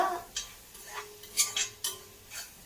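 A spoon scrapes and clinks against a pan while capsicum rice is stirred, several short separate scrapes close by at an uneven pace, with no one talking.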